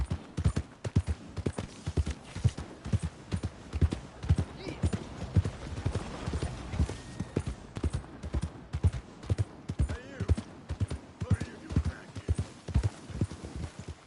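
Hoofbeats of a horse in Red Dead Redemption II, a regular clip-clop rhythm close and prominent, with a brief whinny and a voice talking over the trotting.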